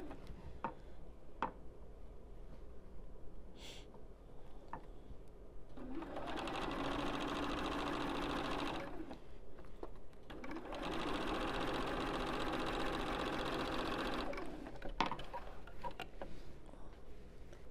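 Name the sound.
sewing machine sewing the last seam of a quilt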